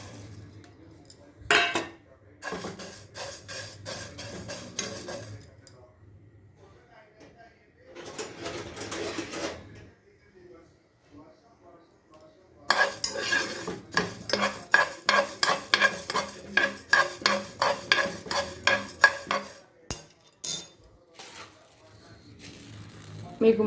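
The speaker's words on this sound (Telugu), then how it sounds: "ముందుగా స్టవ్ ఆన్ చేసుకొని గిన్నె వేడైన తర్వాత ధనియాలు వేస్తున్నానండి" Coriander seeds dropped into a hot, dry vessel and stirred for a homemade garam masala, giving bursts of scraping, rattling and faint sizzling clatter between quieter pauses.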